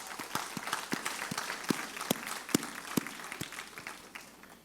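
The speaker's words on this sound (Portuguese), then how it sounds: "Acho que merece estar uma salva de palmas nesse texto" Applause from a church congregation during a sermon, a steady wash of many hands with a few sharp, louder individual claps standing out, fairly close and alone without talk.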